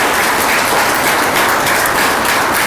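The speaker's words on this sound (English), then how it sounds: "Let's give him a big round of applause." A crowd at a veterans event applauds a retired US Army general, with loud, dense, continuous clapping filling the whole stretch.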